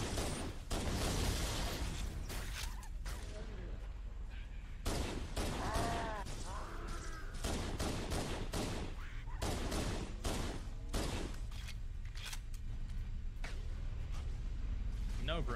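Gunfire in the video game Halo: Combat Evolved: rapid bursts of loud shots and blasts repeat throughout, while voices chatter over the action.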